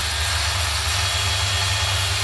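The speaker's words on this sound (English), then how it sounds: "there we are, the UBC 9R belt grinder. Strong, variable speed, very versatile." Suhner UBC 9R variable-speed belt grinder, with a 3 mm belt on a 1.5 mm wheel, finishing fillet welds: a steady, loud motor hum and whine that stops abruptly at the end.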